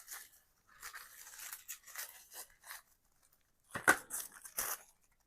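Paper being cut and torn close up while making a junk journal from an altered composition notebook, with short crinkly rasps and tearing bursts separated by quiet pauses and a sharper rip near the end.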